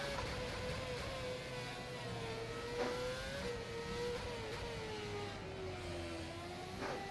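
A race car engine drones steadily through a lap in the rFactor 2 racing game on a Singapore circuit, its pitch rising and falling with gear changes and revs, close and continuous with no talk.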